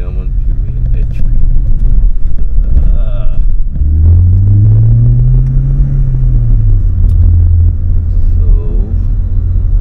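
A Skoda Octavia RS245 running a Revo Stage 2 map accelerates hard, its engine note rising and then falling in a loud pull, with someone talking over it.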